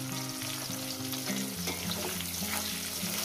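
Chopped onion sizzles steadily in hot oil with cumin, for a spicy lote fish curry. The dense, even frying hiss runs throughout, with low background music underneath.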